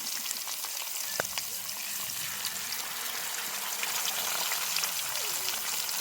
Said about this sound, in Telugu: పచ్చట్లోకి నంచుకోవడానికి చేపలు ఫ్రై చేస్తాను